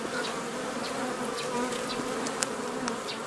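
Honey bees from a hive opened for a colony inspection hum in a dense, continuous buzz, close and steady, with individual bees droning past now and then.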